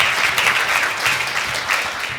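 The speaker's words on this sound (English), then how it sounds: "You're clapping, and I didn't tell you how good she is yet." Conference audience at a marketing summit session bursts into brief, loud, dense clapping, a steady wash of many hands close by with no voices over it.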